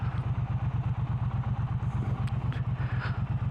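A stock Triumph Bobber motorcycle engine idles with a steady, low, loping pulse, close and even throughout, with faint background noises above it and no talking.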